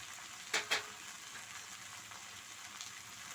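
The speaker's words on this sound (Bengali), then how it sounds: "খুব ভালো করে গাঠির সঙ্গে কষিয়ে নেব।" Taro and fish sauté in a pan with ginger paste and dried red chilli paste, giving a soft, steady sizzle. Two brief louder scrapes of stirring come near the start.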